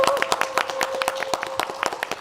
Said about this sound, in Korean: 박수로 맞아보겠습니다.